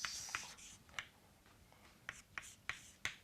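Chalk strikes a board during an engineering lecture, sharp quiet taps and short scrapes arriving in an irregular run of about eight marks, close and faint.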